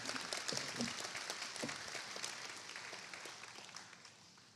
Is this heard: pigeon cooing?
no